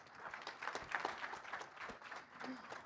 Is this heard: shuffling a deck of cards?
no